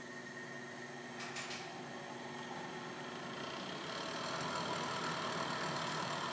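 A multi-spindle Clausing drill press runs with a steady mechanical hum and whir, a few faint metallic clicks early on, and the drone swelling slightly toward the end.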